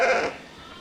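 A single ewe in a flock gives one short, loud, close bleat, after which the sound drops away to quiet background.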